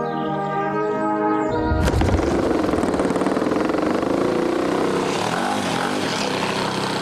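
A loud propeller aircraft engine roars steadily as it passes close by, its pitch shifting while the drone continues throughout.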